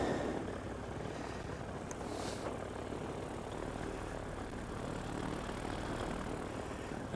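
A paramotor engine idles at low RPM while warming up, giving a steady, moderately distant propeller drone that holds even throughout with no talking.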